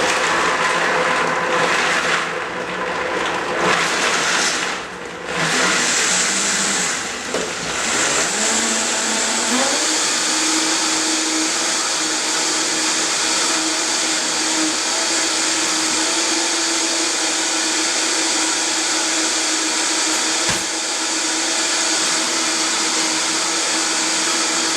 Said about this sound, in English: The great thing about a 2 or 3 horsepower blender is that it blends it up really quickly and smooth.